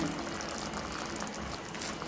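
Half a cup of water poured from a mixer jar into simmering bittergourd kuzhambu, a soft continuous splashing pour, fairly faint and brief.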